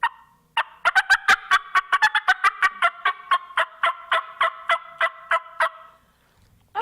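Raspy bat wing cut yelps from a plastic turkey call imitating a big hen, a rapid series of about twenty sharp, close clucks that taper off.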